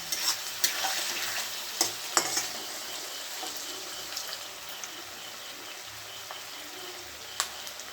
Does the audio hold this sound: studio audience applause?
no